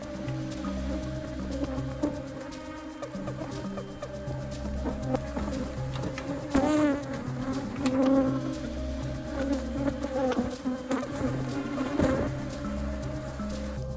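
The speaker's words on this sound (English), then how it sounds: "our bees have settled down back to their daily routine" Honey bees buzzing around a 20-hive apiary in a garden, a dense, steady drone of many insects close by, with occasional nearer passes and faint bird calls in the background.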